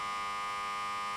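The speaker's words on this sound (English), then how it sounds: "Extremely wrong buzzer noise." A wrong-answer buzzer in a video game blares as one loud, steady, harsh electronic tone held for the whole moment, alone with no talk.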